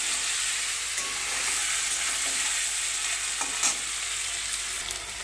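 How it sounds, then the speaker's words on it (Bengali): Paneer lightly frying in oil in a pan, giving a steady, close sizzle throughout with small stirring scrapes and faint pops, no talking. "দেখুন হালকা ভেজে নেবো পনিরগুলো"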